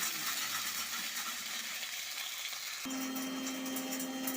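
Spice paste cooks in a pan in a village kitchen with a constant, even sizzling hiss, close and fairly quiet. A faint steady hum joins partway through, and no one speaks.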